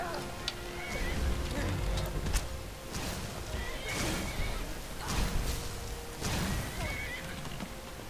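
A horse in the Skyrim video game neighs and whinnies repeatedly amid clattering hoofbeats and combat noise, with someone talking over parts of it.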